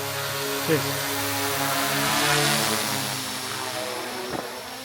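A DJI Mavic 4 Pro drone's steady, fairly quiet propeller whir hovers throughout, with a few brief voice fragments and a faint thump rising near the start and end.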